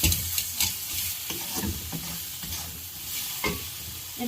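Spice masala with ground black pepper being sautéed in a pan, a continuous soft sizzle broken by repeated scraping strokes of a spatula, close and fairly quiet, no voices.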